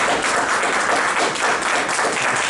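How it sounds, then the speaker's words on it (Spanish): Loud church congregation applause at a Miami church service: a dense, sustained roar of many hands clapping at once, close and continuous with no gaps, and no voices standing out. "Dale un fuerte aplauso a Dios."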